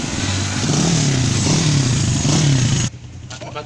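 A motorcycle engine idles and revs in a yard, a steady close mechanical drone with a wavering pitch that cuts off abruptly near the end, leaving quiet background.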